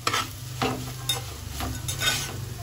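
A spoon stirring bitter gourd fry in a hot pan, scraping strokes in a loose rhythm over a soft sizzle, close up with no talk.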